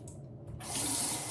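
Water runs from a tap after a brief quieter start, turning into a steady, close, fairly loud rush that holds to the end, with no one talking over it.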